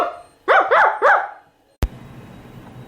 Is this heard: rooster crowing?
no